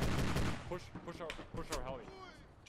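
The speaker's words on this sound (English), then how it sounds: "I'm being shot at" Gunfire in the military shooter Squad, several sharp close shots and bursts crackling in quick succession over a few seconds, with other game noise and voices mixed in.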